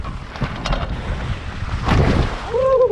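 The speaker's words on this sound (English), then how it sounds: "That's a wave." A sea wave hitting a sailboat, a rough rushing slosh and thump against the hull with wind buffeting the microphone, loud and close, no talking over it.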